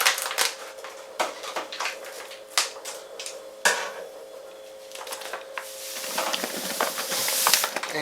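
Dextrose, a full kilo from a cut bag, pours into a home brew fermenter for a Coopers Russian Imperial Stout, a soft rushing hiss swelling toward the end after scattered clicks and rustles, no voices.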